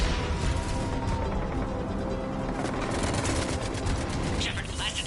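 Continuous, dense automatic gunfire rattles on Insanity difficulty in the Mass Effect 3 mission on Sur'kesh, loud and unbroken across the moment, with voices speaking over the combat.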